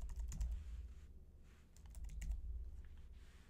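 Quick bursts of keystrokes on a computer keyboard enter a password while setting up a hacking lab, the clicks coming in two short clusters separated by a brief pause, close and fairly quiet.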